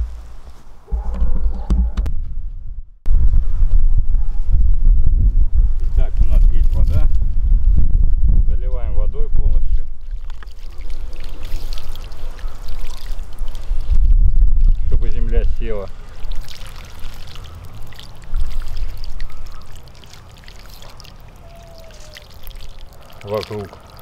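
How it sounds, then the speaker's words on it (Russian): Water pours onto soil around a dwarf yellow mountain pine just moved from its container into the ground outdoors, a steady rushing splash with gusting wind noise that swells and fades over about twenty seconds. "Поэтому сейчас я воду проведу."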